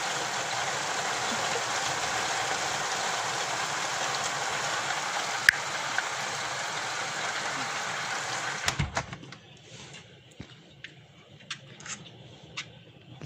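Heavy rain pours steadily outside, a dense, even hiss lasting several seconds before cutting off abruptly to a quieter room with scattered small knocks.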